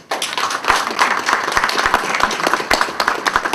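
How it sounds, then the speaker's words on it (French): Audience applause at an international business forum, dense clapping from a crowd with sharp individual claps standing out near the microphone, sustained throughout. "Merci de vous applaudir."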